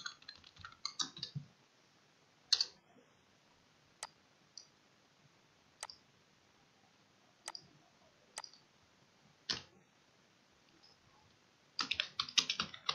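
Keys are tapped on a computer keyboard in a quiet room, with short bursts of rapid clicks at the start and end and isolated single keystrokes spaced out between them.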